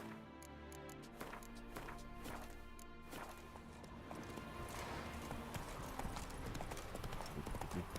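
Horse hooves clip-clop on the ground in The Witcher 3 video game, starting at a walk and quickening into a faster, denser galloping rhythm, close and steady under faint background game sound.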